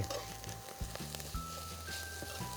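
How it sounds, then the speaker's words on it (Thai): Catfish fried rice being stir-fried in a pan over low heat, with a steady close sizzle broken by soft scraping and tossing strokes of the spatula, no voices. "ค่อยๆคลุกเคล้าผัดไฟอ่อนๆ นะครับไม่ต้องไฟแรงมากนะครับ"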